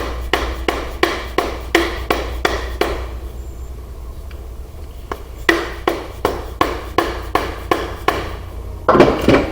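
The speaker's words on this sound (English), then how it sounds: "Hammer. Let's see if we can tap that out." A hammer taps metal in an ironworking shop, a row of sharp, evenly spaced strikes, then a pause, then another steady run of blows, loud and close over a low background hum.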